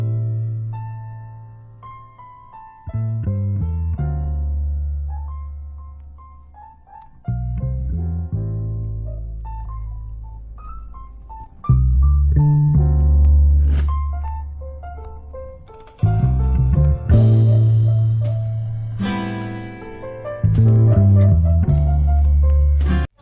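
The blues sample plays on its own: sustained chords over a deep bass line with melodic phrases and sharp attacks, loud and continuous.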